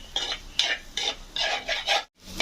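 Spatula stirring prawn egg podimas in a pan, scraping in repeated strokes with soft sizzling beneath, a brief pause near the end.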